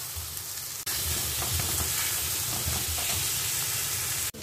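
Boiled, deboned rohu fish goes into frying spice masala, giving a loud, continuous close sizzle with stirring scrapes, cut off briefly near the start and again at the end.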